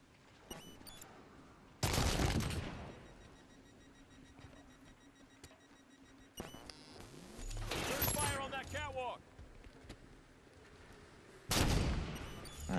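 Bursts of rapid gunfire from the Halo 5: Guardians video game come in three loud clusters, with game effects and a quieter stretch between them.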